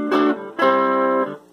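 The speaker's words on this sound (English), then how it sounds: "just a little bit of overdrive" An electric guitar with a little overdrive through a hand-wired Peavey Classic 30 amp, two bright strummed chords, the second held longer before it fades, close and with no talk.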